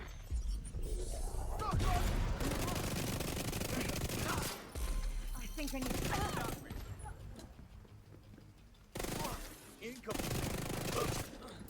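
Automatic Ouroboros gun firing in The Division 2, sustained rapid bursts of gunfire with brief pauses between, loud and dense, with a voice talking over parts of it.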